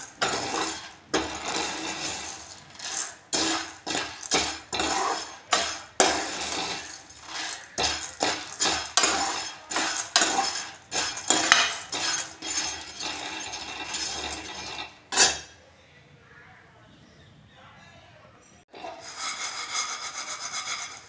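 Dry chickpeas being roasted at home are shaken and tossed in a frying pan, producing dense rattling bursts in an irregular rhythm, close and loud, with a pause and quieter shuffling near the end.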